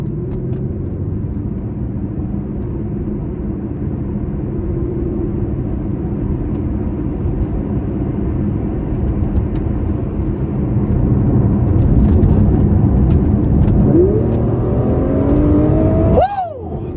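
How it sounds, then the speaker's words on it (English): A 2014 Aston Martin Vanquish V12 accelerates with a steady, loud exhaust growl and engine rumble throughout, building in intensity before a sharp rising rev near the end. "And that Aston Martin V12 sound is just something that can't be beat."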